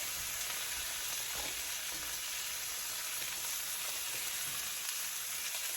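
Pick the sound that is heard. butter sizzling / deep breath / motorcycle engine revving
butter sizzling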